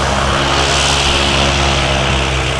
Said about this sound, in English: And the last minute engine run up